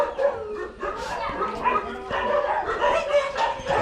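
Several dogs at a rescue shelter in Thailand bark, yip and whimper in overlapping bursts, close by and fairly loud, with faint human voices in the background.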